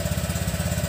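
A Honda Click 125 scooter engine runs close up, a steady pulsing putter with a regular throbbing rhythm, loud and alone with no voices.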